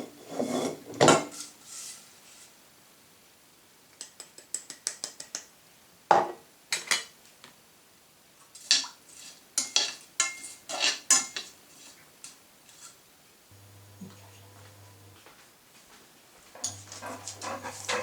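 Homemade foot grease mixture with bits of leaves stirred in a metal pot, a spoon scraping and clinking against the sides in irregular bursts, close and clear, with a low hum coming and going near the end.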